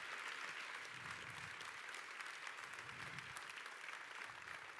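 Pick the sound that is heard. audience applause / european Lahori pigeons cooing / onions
audience applause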